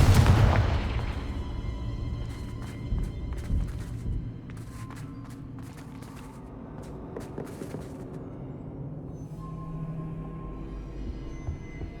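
A Confringo spell explodes in Hogwarts Legacy, a loud booming burst at the start that decays into a rumbling, crackling tail, followed by quieter game ambience with scattered thuds.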